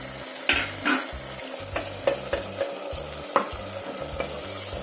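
Tomatoes stirred into a sizzling frying pan for egg biryani, a steady fry with several soft scrapes and clinks of a spoon against the pan, close and without voices.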